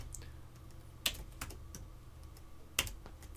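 Commands are typed on a computer keyboard as soft, sparse keystrokes with a few sharper key hits, heard quietly and close with no talking.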